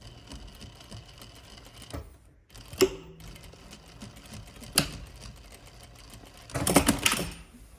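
Sewing machine topstitching 1 mm from the edge along the side seam of a shirt dress, in short runs of whirring stitches with a sharp clunk between them and a longer, louder burst near the end.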